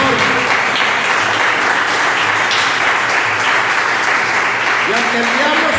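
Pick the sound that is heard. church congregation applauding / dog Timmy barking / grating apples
church congregation applauding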